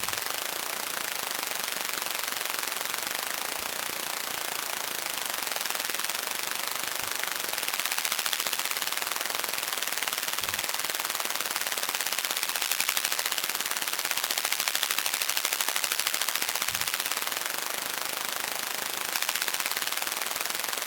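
A synthesized wing flutter made in the Vital synth gives a dense, rapid, rattling buzz that runs continuously at an even level, with no voices.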